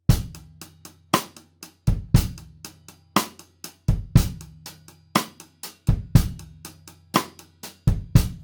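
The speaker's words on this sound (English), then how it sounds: "accent the quarter notes" Drum beat of kick and snare with hi-hat accents falling on each quarter note, a steady four-count pulse repeating throughout.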